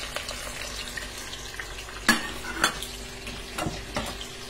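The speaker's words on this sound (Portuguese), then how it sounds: "Vamos deixar fritar agora o quiabo." Okra frying in a pan with onion and sweet pepper, a continuous close sizzle with a few sharp utensil scrapes and taps as the pan is stirred.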